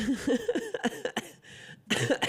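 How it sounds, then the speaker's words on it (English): A string of short, harsh coughs in quick bursts, close to the mic, with a brief pause before a final round. "Here, I remember that cough too."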